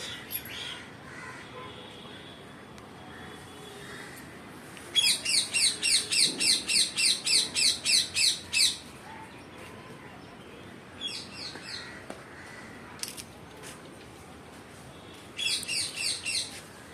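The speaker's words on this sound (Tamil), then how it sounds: "மரங்குத்தி" Woodpecker calling in a natural setting, a rapid run of about a dozen sharp, evenly spaced high notes, followed later by a few scattered single calls and another short burst, fairly close against a quiet background.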